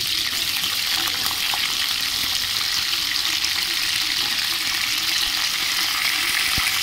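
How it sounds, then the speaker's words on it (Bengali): Sea crabs frying in mustard oil in a kadai, a constant loud, close sizzle with bubbling and occasional stirring clicks, no talking. "এর মধ্যে আমি কাঁকড়াগুলোকে ভালো করে ভেজে নেব"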